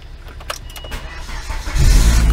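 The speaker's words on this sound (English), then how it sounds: "So I will just start the car" Volvo car engine starting after a heater core replacement, heard as a few clicks and cranking followed by the engine catching and settling into a loud, steady idle.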